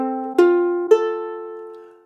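Single ukulele strings are plucked one after another, three bright notes in a row, each ringing out clearly and fading alone in a quiet room.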